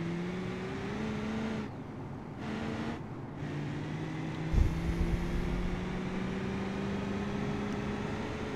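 Steady engine drone of a car with a 6-litre diesel engine in BeamNG Drive, cutting out briefly during gear changes, then rising in pitch as the car accelerates, with a dull thump midway.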